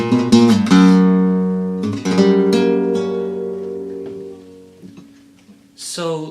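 Flamenco guitar played with alzapua technique, quick thumb strokes and strummed chords in a rapid opening flurry, then ringing notes that fade out, followed by a brief voice at the end.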